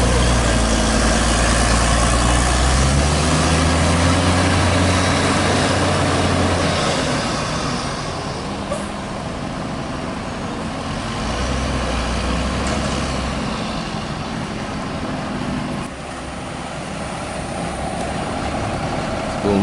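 A Gumarang Jaya intercity bus pulls out of the Solok bus terminal at night, its heavy diesel engine rumbling loudly up close, then settling into a steadier drone as it moves off, with no one talking.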